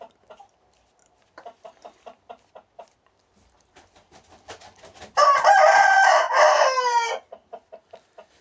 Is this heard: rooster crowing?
yes